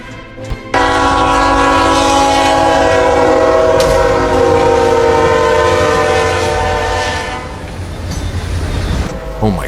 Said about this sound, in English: a horrific collision with the train